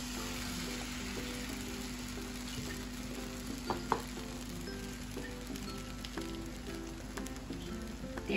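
Oil-brushed flatbread roasts on a hot tava griddle over a low flame, giving a steady, close sizzle with faint crackles and a few soft scrapes throughout.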